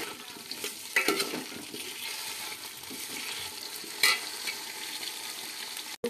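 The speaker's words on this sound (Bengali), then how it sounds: "ভেজে নিচ্ছি।" Potato pieces fry in hot oil in a pan, giving a steady close sizzle with occasional clinks of a spatula stirring and a sharp knock near the end.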